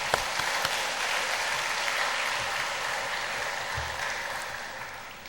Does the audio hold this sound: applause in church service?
yes